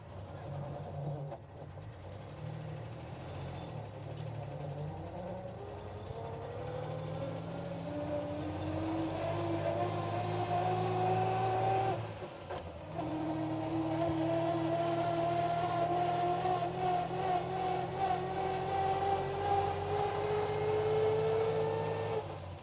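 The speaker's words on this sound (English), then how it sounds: "the gearbox is singing away in first and second" A vintage 1920s-30s vehicle being driven, its engine droning as the gearbox whines upward through first and second, the pitch climbing steadily, briefly dropping at a gear change, then rising again.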